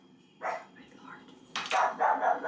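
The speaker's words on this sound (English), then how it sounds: "she's barking at a cushion." A dog indoors gives a single bark followed shortly by a burst of louder repeated barks, close and sharp in a quiet room.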